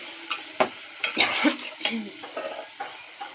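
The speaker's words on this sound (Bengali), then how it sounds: "আমি ডাল দিয়ে দিয়েছি তেলের মধ্যে আর দিয়ে দিয়েছি লবণ এবার আমি কিছুক্ষণ ভেজে নিব ডালটাকে" Lentils tossed in hot oil with salt give a soft sizzle broken by sharp spatula scrapes and clinks against the pan, several distinct strokes close by.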